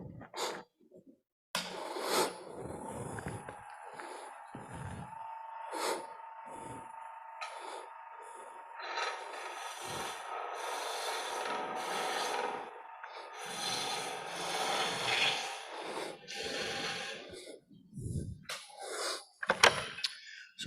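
Wood turning on a lathe, a tool knocking the edges off the spinning piece, with rough scraping and rasping bursts broken by short pauses, close and fairly loud.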